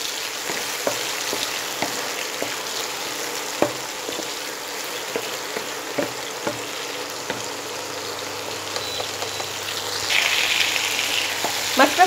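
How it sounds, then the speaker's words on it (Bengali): Prawns frying lightly in a pan for a Bengali kachu pata chingri dish, giving a steady soft sizzle with scattered small pops and crackles, with a brief louder hiss near the end. "মাছটা একদম হালকা করে আমি ফ্রাই করে নেব।"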